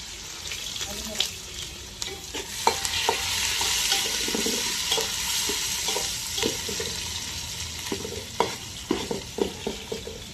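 Onions frying in a pan for chicken biryani, a constant hiss of sizzling oil broken by close clattering stirs and scrapes that grow more frequent toward the end, no talking.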